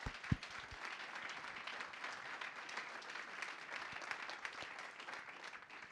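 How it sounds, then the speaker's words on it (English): An audience at a London diversity event applauds an award-winning ambassador, a steady, even patter of many hands clapping throughout, moderately distant, with a few louder claps at the start. "I'd like to give her a round of applause."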